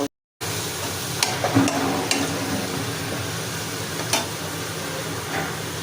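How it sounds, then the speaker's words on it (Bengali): Onions frying in oil in a pot while cooking cock chicken curry with meat and potatoes, giving a steady close sizzle with a few soft clinks and scrapes and no talking. "পেঁয়াজ ভাজা হয়ে গেছে"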